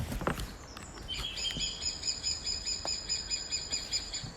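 A recorded woodpecker call plays back as steady, high, whistling tones with a few short chirps over faint background hiss.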